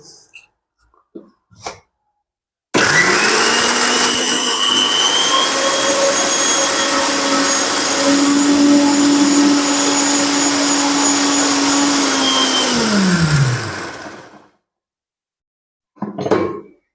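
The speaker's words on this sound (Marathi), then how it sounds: "हे आपण सगळं मिक्सरमध्ये बारीक करून घ्यायचं चांगलं बारीक करून घ्यायचं आहे" A kitchen mixer grinder whirs loudly, grinding roasted green tomato chutney in one continuous droning run of about ten seconds that winds down, with faint handling clicks before and after.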